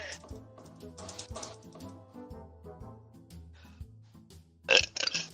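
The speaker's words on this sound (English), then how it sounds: "That's a burping." A single loud burp bursts out near the end, after stretches of quiet clicking like keyboard typing and low background noise.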